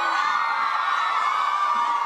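A large crowd of fans screams and cheers at a Hunger Games cast appearance at a shopping mall, a dense, steady roar of high-pitched shrieks and whoops that holds at full loudness throughout with no speech rising above it.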